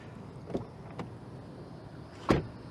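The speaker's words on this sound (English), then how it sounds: "let's check out the quality of this vehicle by listening to the way the door shut" A car door shuts with a solid, dull thump near the end, preceded by a couple of fainter latch clicks, close and otherwise quiet.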